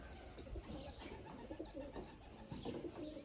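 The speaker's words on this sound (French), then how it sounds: "ils entendent les bruits des oiseaux" Pigeons or doves coo outside a cat boarding house, soft repeated cooing calls close by against a faint background, with no talk over them.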